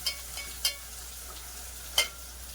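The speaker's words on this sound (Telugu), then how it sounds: "ఉల్లిపాయ కొద్దిగా ఫ్రై అవ్వాలండి, పచ్చివాసన పోవాలి" Onions fry in a pan for a fish and raw mango curry, a soft steady sizzle running underneath a few sharp clicks of a spoon stirring against the pan.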